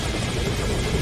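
Video game helicopter from Metal Gear Solid V: Ground Zeroes, a loud steady rotor drone and hum filling the short moment with no talk.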